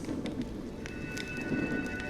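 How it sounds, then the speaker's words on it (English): Steady rain pours in a Honkai Star Rail game scene, a dense even hiss of drops on surfaces with faint tapping and a soft tonal hum drifting in midway, no voices over it. "When will this rain ever stop?"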